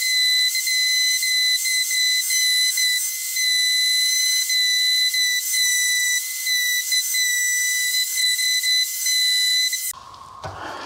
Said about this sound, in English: it's a random orbital, but I'm taking it down to the metal